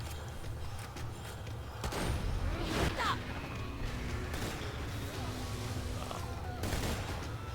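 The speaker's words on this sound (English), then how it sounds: "Since I'm really just sniping here" Sniper rifle fire in Borderlands 2, played as Maya, comes as a few sharp, loud shots spaced several seconds apart over a steady bed of game ambience.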